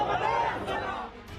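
An angry crowd shouts on the streets of Dhaka, a dense, agitated roar of many voices at moderate level with rising yells, heard at a distance and slightly muffled.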